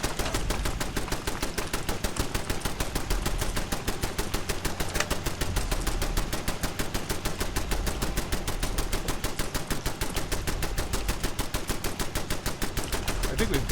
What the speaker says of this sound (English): I have too many guns, and they're shooting themselves